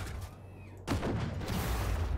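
A single booming tank cannon shot in the video game Armored Warfare bursts out abruptly after a quieter stretch, followed by a rumbling, noisy tail of battle ambience.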